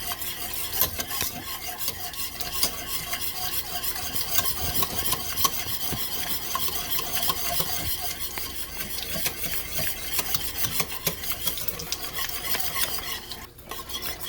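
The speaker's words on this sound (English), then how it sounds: "you see how it's turning nice and brown, and you have to just keep whisking" A whisk scrapes and stirs steadily through a browning flour roux in a pan over medium-low heat, making a continuous close rasping, scratching sound with a faint sizzle underneath throughout.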